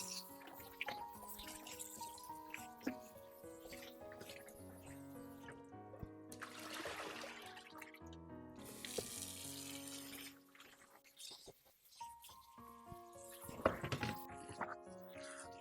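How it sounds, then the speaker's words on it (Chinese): Gardenia flowers are rinsed under running tap water in a kitchen sink, with the stream splashing and gurgling in uneven bursts that start and stop, plus occasional clatter. "我们再用流动的清水给它多冲洗2遍"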